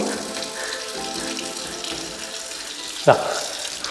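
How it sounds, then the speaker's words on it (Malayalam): Water poured onto a lacquered glass counter in a budget modular kitchen, a steady trickle and splash with a brief louder splash near the end. "കണ്ടോ, വെള്ളം എടുത്ത് ഒഴിക്കുന്നു."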